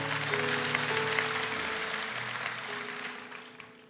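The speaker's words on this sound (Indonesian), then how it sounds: "Kasih tepuk tangan untuk Tuhan." A congregation at an Indonesian morning prayer service claps, a continuous broadband wash of applause over a faint sustained tone, gradually fading toward the end.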